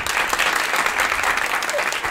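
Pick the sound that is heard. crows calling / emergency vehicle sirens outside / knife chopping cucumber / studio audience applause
studio audience applause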